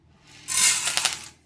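Urad dal and chana dal dropped into hot oil set off a sudden bright sizzle that swells quickly and then hisses on steadily, close and fairly loud, with no talking.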